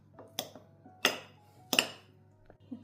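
Pënar white cheese is broken into small pieces for a cornmeal pogaçe, with three sharp, close clinks of a utensil against a dish and a few softer taps between them.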